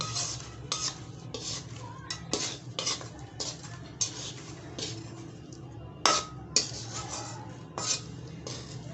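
Fried papad pieces are dropped quickly into a strainer in a kitchen, giving repeated crisp rattling clatters and light metallic scrapes in an irregular rhythm over a low background hum, with no talking.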